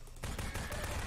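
Rapid gunfire in the video game Half-Life 2, a dense burst of close, loud shots rattling in quick succession for about a second.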